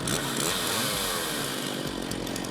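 A stock chainsaw engine screams at full throttle during a hot saw race at a logger sports competition, loud and steady with no break.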